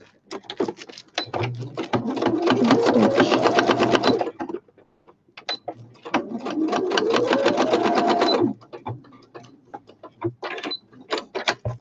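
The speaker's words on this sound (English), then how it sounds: "I'm going to do a straight stitch" A sewing machine runs a straight stitch in two long, steady rattling bursts of about four and two and a half seconds, loud and close, separated by pauses with small clicks and handling noises.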